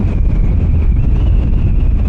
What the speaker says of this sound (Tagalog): At ang lakas po ng hangin.